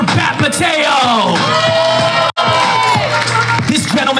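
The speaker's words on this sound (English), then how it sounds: "Round of applause for Batmateo." Crowd at a Megacon convention panel cheering and whooping loudly, with yells and shouts rising over one another, a brief cutout midway, then the excited roar resumes.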